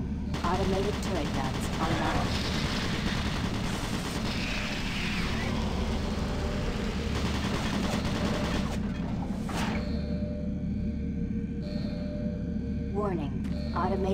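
Automated turret guns firing in Doom 3, rapid sustained gunfire over a dense rumbling background, with a brief synthetic warning voice toward the end.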